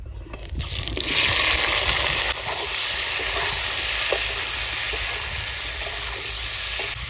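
Boiled jackfruit pieces frying in hot oil in a pan, a steady loud sizzle that stays even throughout with faint stirring clicks and no talk.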